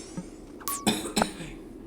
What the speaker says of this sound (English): Cough is still like bothering me from being sick